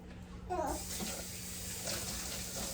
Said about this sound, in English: Let me let the water heat up so we don't have to wait that long.